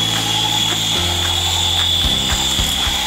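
Little Tikes toy helicopter drone buzzing continuously up close, a steady high motor whine with a rattling, ratchet-like mechanical chatter underneath whose pitch shifts in steps.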